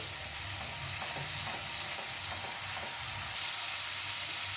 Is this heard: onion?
yes